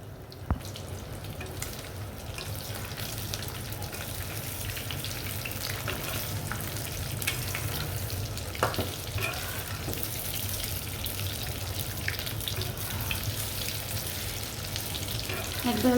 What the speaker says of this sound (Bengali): সবটি কোপ্তা আমি ভেজে ফেলবো।